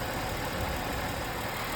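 Car engine idling with a vacuum leak and running rich, a steady close mechanical drone and hiss with no talking.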